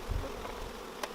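Honeybees buzz around an open hive in a dense, continuous hum close by, with a few low knocks near the start and a brief sharper sound near the end, and no talk.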